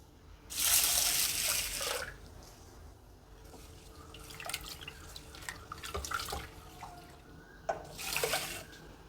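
Tap water runs and splashes in bursts as lentils are washed, with quieter stretches of rinsing and sloshing between them.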